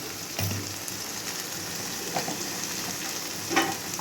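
Spices frying with Kashmiri chilli and sugar for egg curry, heard as a steady, dense sizzle throughout, with occasional soft stirring clinks and a faint scrape near the end.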